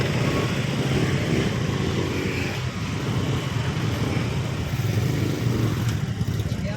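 A motorcycle engine churns through deep flood water on a congested road, a steady low rumble mixed with sloshing and splashing that holds close and loud throughout.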